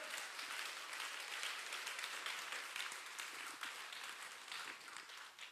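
Worshippers at a Sunday church service applaud in a faint, distant wash of many hands clapping, steady and even throughout about five seconds.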